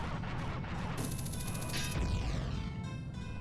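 Video game explosions in a Majora's Mask randomizer, a few loud blasts with bright ringing tails, a sharp burst about a second in and a deeper boom near the two-second mark, fading into layered echoing decay.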